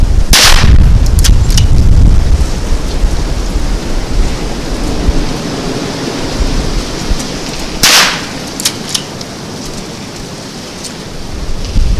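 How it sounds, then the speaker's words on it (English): A Browning BL-22 lever-action rimfire rifle fires outdoors, with two sharp, loud cracks several seconds apart over constant wind noise. "We're going to do some shooting back here and see how this works."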